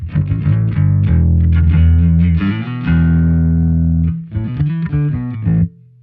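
A heavily distorted bass guitar, recorded through an analog mixer, plays sustained, buzzing notes with effects, loud and close, with a brief gap before a final few plucked notes.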